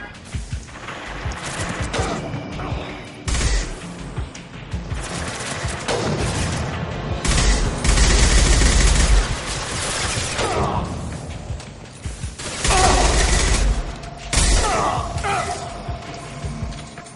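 Repeated bursts of video game gunfire, loud rapid volleys recurring over several seconds amid mechanical clatter and a continuous game soundscape.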